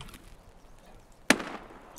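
A single sharp gunshot from the video game Escape from Tarkov cracks out against a quiet background, brief and loud, with a short ringing tail.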